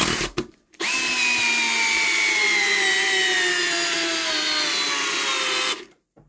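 A first-generation Milwaukee Fuel power drill spins up at speed one, a loud close whine holding steady for about five seconds while its pitch slowly sags, then cuts off.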